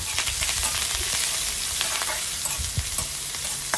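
Chopped onions fry in hot oil in a pan with curry leaves, hissing and sizzling steadily up close while a spoon stirs them now and then, giving soft scrapes and taps.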